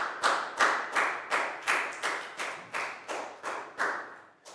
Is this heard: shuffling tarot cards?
no